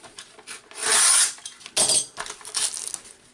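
A craft knife slices through excess vinyl application tape on a small sign, giving two short scraping bursts with lighter rubbing and rasping strokes in between, close and fairly quiet.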